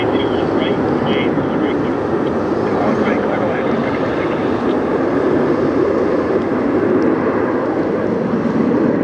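Airliner landing at Detroit Metro airport, a steady broad roar of engines and rushing air heard from near the runway, continuous throughout with a voice talking over it.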